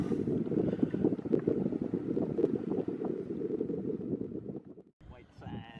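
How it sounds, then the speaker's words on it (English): A motorboat runs across the sea off Montego Bay, Jamaica, giving a steady engine and hull rumble mixed with wind buffeting. The sound cuts off abruptly near the end before faint noise resumes. "Taking the motorboat out for a spin."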